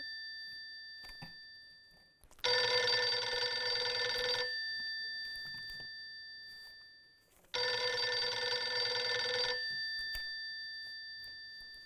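A telephone rings twice with a bright electronic bell, each ring lasting about two seconds and separated by a pause, heard clearly in a quiet room.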